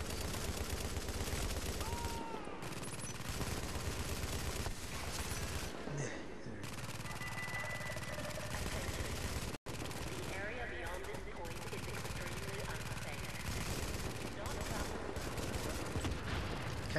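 Gun turret firing in The Division during a Times Square power relay mission, dense sustained automatic gunfire filling the scene almost without pause, with talk over it.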